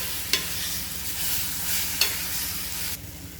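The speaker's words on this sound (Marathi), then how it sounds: "आता हे वांग यामध्ये टाकायचं आहे गॅस बारीक करायचा आहे" Eggplant sautéing in a pan on low heat, a steady close sizzle with a couple of sharp utensil knocks against the pan, no talking.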